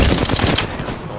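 Rapid automatic gunfire in the shooter game Apex Legends, a loud dense burst of closely spaced shots lasting about a second, near and dominant.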